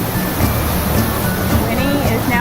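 Near a cliff jumping spot in Costa Rica, a waterfall pours in a steady, full rush close by, with faint voices underneath.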